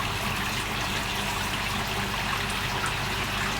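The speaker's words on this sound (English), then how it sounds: "there's 9 40mm overflows that take it back into the tank" Water from a large 9000-litre home aquarium rushes steadily down nine 40mm overflows into the sump, a constant loud, dense wash with no breaks.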